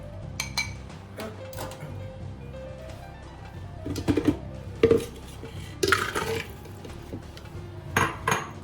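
Ingredients for a plant-based vegan cheese being stirred in a bowl, with scattered clinks and scrapes of a utensil against the dish, close and fairly quiet, with louder knocks toward the end.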